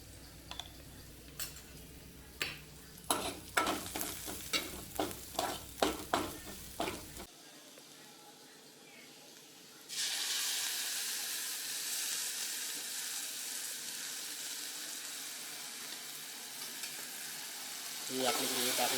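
Cumin and turmeric frying in hot oil in a pan, with clattering stirring strokes at first, then a steady loud sizzle that continues on its own.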